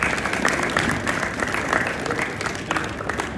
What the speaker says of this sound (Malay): tepuk tangan pada Haji Zainal.